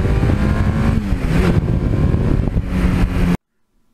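A 1982 Suzuki GS1100E motorcycle being ridden, its engine droning loud and steady with a slight rise and fall in pitch before cutting off abruptly near the end.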